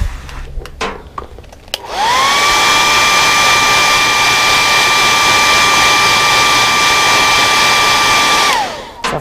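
Heat gun heat-setting paint on a fishing lure, switching on after a few faint clicks and then blowing a loud, steady whining roar with a constant high tone for several seconds before cutting off.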